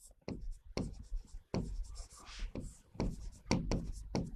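Writing by hand during a history lesson, with scratchy strokes coming in short bursts under a teacher's steady talk throughout.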